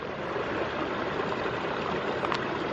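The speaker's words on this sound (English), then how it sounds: "Now let's try squeezing it into my water bottle." Water squeezed through a Sawyer Micro Squeeze filter into a bottle outdoors at Wistmans Wood makes a steady, close trickling and splashing for about three seconds, with no talk.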